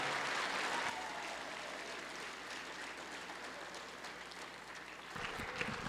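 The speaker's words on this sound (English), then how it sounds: "if we could just give him a round of applause" Applause fills the House chamber as a broad, sustained wash of clapping from a large crowd in a big room. It stays fairly even at a moderate distance, then rises slightly near the end.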